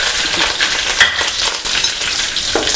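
Curry leaves and chopped taro frying in a pan give a loud, close, steady sizzle with crackling pops, heard alone without talk.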